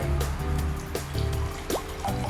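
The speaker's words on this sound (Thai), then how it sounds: "เทน้ำเปล่าลงไป" Plain water poured into an empty glass, a close, continuous filling trickle with rising gurgles and small splashes, heard alone without talk.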